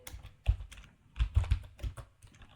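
A command is typed on a computer keyboard in a short, close burst of distinct key clicks with a brief pause partway through, and there is no talking.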